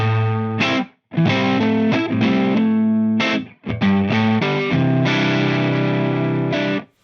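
Electric guitar played through a Two Notes Torpedo Captor X with enhancer and reverb, heavily distorted chords struck in short bursts and sustained ringing, with brief gaps between phrases and no talking.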